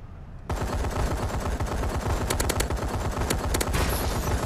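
Rapid automatic gunfire erupts in a video game firefight against an enemy warbird, a dense, loud, continuous stream of shots with some sharper metallic accents.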